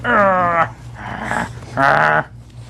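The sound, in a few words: puppies growling while chewing up a bag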